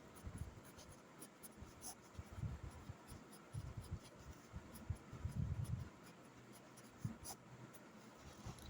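Pen scratching on paper while a class 10 maths problem is written out: soft, close strokes in short irregular bursts, quiet and with no talking.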